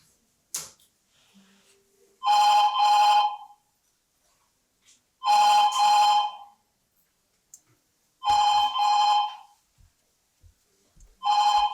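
A telephone rings in repeated double bursts, four evenly spaced pairs of bright electronic trills separated by quiet gaps, loud and close with faint clicks between rings.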